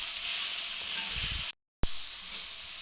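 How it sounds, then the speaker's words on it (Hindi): Carrots frying in a pan for chicken macaroni give a steady bright sizzle, interrupted by a brief dropout before the hiss resumes, with a faint low stir near the start. "गाजर को हम 1 मिनट के लिए फ्राई करेंगे।"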